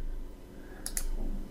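Two quick, sharp computer mouse clicks close together, crisp and near, over a low steady hum with no talking.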